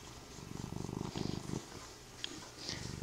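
A gray tabby cat purrs close up in a steady, rumbling rhythm that swells and dips with its breathing, continuous for about three seconds with no talk.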